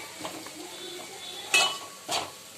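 Ground spices and masala are stirred and fried in a pan while cooking a mutton recipe, with a faint low sizzle under two sharp close clinks of a utensil against the pan.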